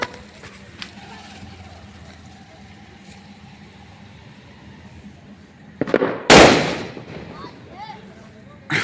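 Firecrackers are set off on a road at midnight, with petrol poured on: low crackling and rumbling at first, then a few pops and one loud close burst, followed by a quieter tail and a final pop.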